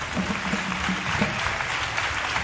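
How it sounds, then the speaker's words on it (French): Audience at a church anniversary celebration applauds the episcopal vicar, continuous clapping with a faint musical tone underneath. "Je vous demande de l'applaudir très très fort."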